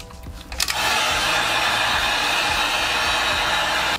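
Heat gun switched to high and running steadily, a loud continuous blowing whoosh heating EVA foam for a War Machine cosplay helmet, kicking on after a brief quieter start and holding constant.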